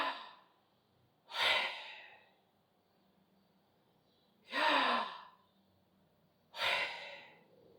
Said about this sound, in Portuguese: você respira.